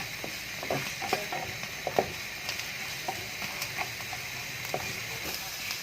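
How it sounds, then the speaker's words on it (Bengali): Onions lightly frying in a pan give a soft, steady sizzle, with scattered light clicks and scrapes of stirring throughout. "আমি পেঁয়াজটাকে হালকা একটু ভেজে নেব"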